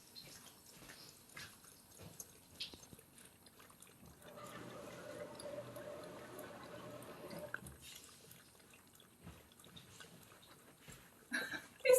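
A dog laps water from a foot spa basin, a run of soft wet splashy laps in the middle of the stretch, with quieter drips and handling noises before and after.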